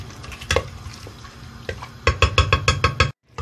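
Calamari frying in oil in a pan, with a rapid run of sharp metallic scrapes and clinks from stirring over a soft sizzle, ending abruptly.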